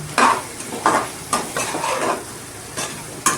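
Masala frying in a pot while being stirred for one-pot drumstick rice, soft sizzling under a series of distinct spoon scrapes and clinks against the metal pot, close by and without speech.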